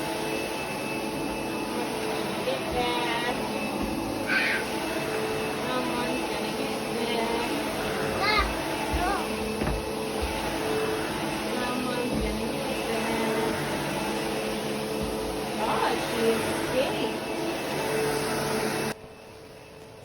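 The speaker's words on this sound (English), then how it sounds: "So here I'm just vacuuming Emery's room to get it nice and clean" A vacuum cleaner running steadily throughout while a child's room is cleaned, a loud continuous motor drone with faint thumps and shifting tone as it moves, with occasional voices underneath, cutting off abruptly near the end.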